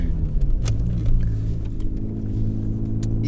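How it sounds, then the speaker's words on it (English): A car shifting gears without using the clutch pedal, a steady low engine rumble with a brief sharper click and a slight change in pitch, close and fairly loud. "I'm gonna lift off the gas, get out of gear,"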